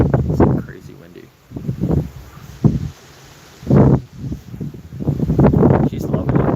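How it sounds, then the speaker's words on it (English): Strong wind roars and thumps against the microphone in repeated gusts, loud and close, with short lulls between blasts. "See how windy it is?"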